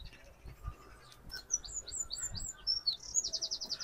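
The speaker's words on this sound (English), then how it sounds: "You can hear all the birds, can't you?" Small birds chirping and tweeting in a garden in historic Southsea, a quick run of bright high calls building toward a rapid trill, fairly faint against quiet outdoor background with no talk.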